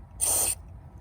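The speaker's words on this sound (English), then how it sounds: "you could also follow up with 1 more spray inside the lock just for good measure" A short, sharp burst of lubricant spray shot into a sticky door lock, a single loud hiss lasting about a third of a second, alone and close.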